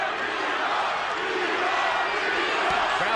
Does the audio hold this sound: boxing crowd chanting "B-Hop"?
yes